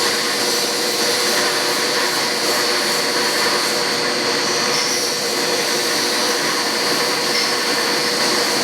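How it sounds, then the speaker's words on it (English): A turbocharger turbine wheel spins in a drill press while being polished with sandpaper, giving a steady, loud whirring hum with a sanding hiss. It holds even throughout, and no one speaks. "We're going to chuck this wheel up in a drill press."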